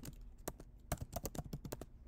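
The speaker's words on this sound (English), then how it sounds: "you can type your topic" Quick, irregular key taps on a computer keyboard as a search topic is typed, a dozen or so close, crisp clicks over about two seconds, faint and alone.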